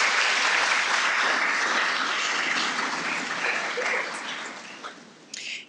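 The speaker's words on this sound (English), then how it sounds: "Round of applause for everyone." A lecture audience claps warmly at a woodworking talk, sustained applause that gradually thins and fades out near the end.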